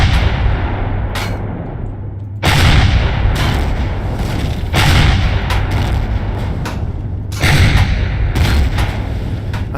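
Heavy turret weapons firing in Empyrion Galactic Survival on a high-gravity world with dense atmosphere: loud repeated booming shots in bursts, with sharp blasts near 1.2, 2.4, 3.3, 4.8, 7.4 and 8.5 seconds over a constant low rumble.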